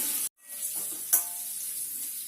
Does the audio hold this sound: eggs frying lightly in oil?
yes